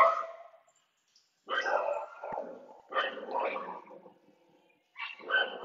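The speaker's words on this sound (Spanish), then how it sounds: "Estos que están ladrando son mis perros." Dogs bark in short bursts from a home during a phone interview, their yaps and whines sounding fairly close and interrupted by pauses, with a voice mixed among them.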